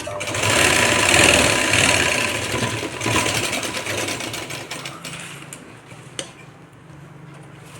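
An electric sewing machine runs steadily, close up, as it stitches a blouse sleeve, with a dense mechanical whir that eases slightly and ends in a few clicks.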